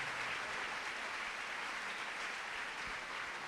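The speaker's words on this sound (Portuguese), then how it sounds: "Você pode aplaudir Jesus" A church congregation claps in a continuous, even patter, a broad, moderately quiet wash of applause with no voices on top.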